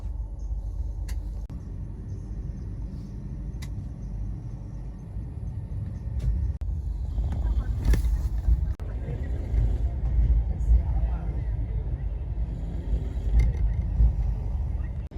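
A superfast express train pulls out of Chidambaram and rolls along, a steady low rumble and rattle heard from inside, growing slightly louder as it picks up speed, with faint clanks and no clear talking.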